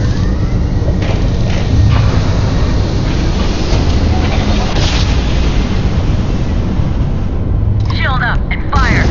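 Spaceship weapons fire and explosions in the video game Starfield, loud rumbling booms and blasts running continuously under people talking.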